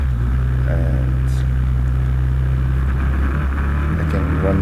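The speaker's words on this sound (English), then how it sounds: "The engine is really working smoothly" A 2015 KTM 690 motorcycle engine runs steadily at a constant low drone while the bike travels over a gravel track, with faint tyre and gravel noise over the continuous hum.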